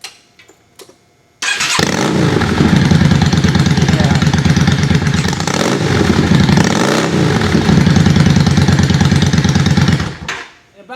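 A motorcycle fitted with a new aftermarket exhaust cranks and fires up after a few light clicks, then runs loud and close with a rough, pulsing idle and a couple of blips before it cuts off.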